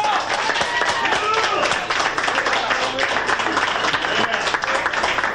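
Studio audience at a radio station's biggest Kings fan contest breaks into steady, dense applause, a loud continuous wash of clapping with a few cheers mixed in, lasting throughout.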